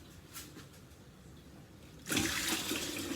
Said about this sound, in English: Carefully adding the hot sugary water.